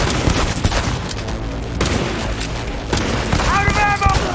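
Gunfire in the video game Cyberpunk 2077: dense bursts of shots and booms in rapid succession, loud and chaotic, with a rising whine near the end and voices mixed in.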